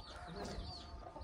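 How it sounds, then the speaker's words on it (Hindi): Chickens cluck and fuss steadily at close range in a rural Pakistani farmyard in Muzaffargarh, with a busy, continuous background of other farm noise. "मुर्गियां"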